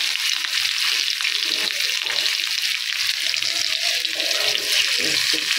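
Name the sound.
chopped onions frying in oil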